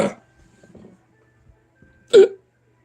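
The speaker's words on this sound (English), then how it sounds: "These hiccups have not gone away" Two hiccups, the first short and soft at the start, the second a louder, sharper gulp about two seconds later, separated by quiet with faint breathing and small mouth sounds.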